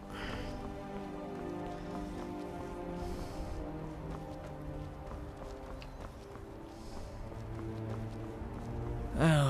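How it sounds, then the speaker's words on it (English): Rain falls in the video game Skyrim, a steady soft patter over game music with faint hoofbeat-like clops throughout. "Oh god, it's gonna rain again."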